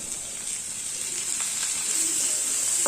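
Tomatoes and curry leaves sautéing in a pan for a jackfruit seed masala fry give off a steady, fairly loud sizzle and hiss that holds throughout, with no voices.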